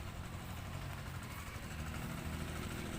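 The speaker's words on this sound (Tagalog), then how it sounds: "Ay, mga sasakyan pala yung maingay" Several vehicle engines idle nearby at a sugar mill in Mindoro, a steady low rumble that holds constant with no talk.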